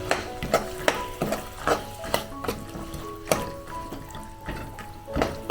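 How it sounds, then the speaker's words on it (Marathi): Sprouted black chickpeas stir-fried in masala gravy, with repeated scraping and clattering of a spoon against the pan over a low sizzle in an uneven rhythm, close and fairly loud. "दोन मिनटं चणे चांगले मध्ये फ्राय करून घेऊया आपण"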